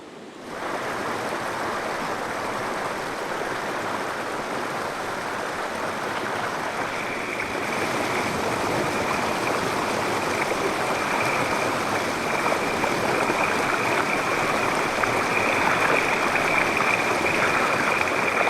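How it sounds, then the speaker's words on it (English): A gentle, shallow river flows with a steady, continuous broadband rush of water, close and unchanging throughout, with no voices. "the river has been incredibly gentle so far and shallow"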